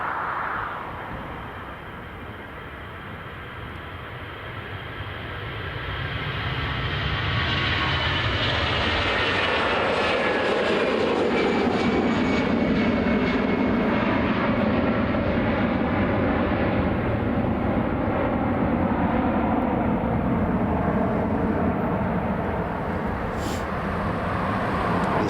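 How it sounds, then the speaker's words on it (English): An airliner, flight EI594 bound for Barcelona, departs Dublin Airport. Its engine roar swells over several seconds, then holds as a loud, steady, broadband rush for the rest of the stretch, with no speech. "EI594 now on departure, heading over to Barcelona."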